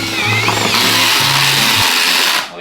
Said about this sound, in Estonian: No lähen kohe selle trelliga sinna põhja.